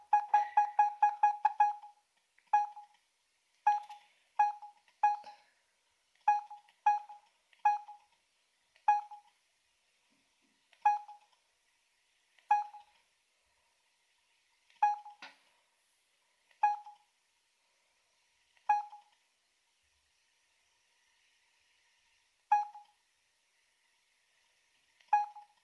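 Keypad buttons on a Samsung S5233T phone beep in a series of short single tones with irregular pauses, quiet and close, with no talk.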